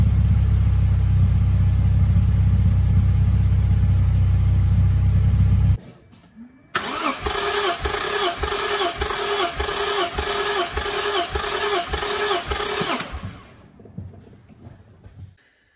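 A loud low rumble cuts out, then a Toyota MR2 time attack car's engine cranks and catches, running with a rapid pulsing idle before it shuts off and fades.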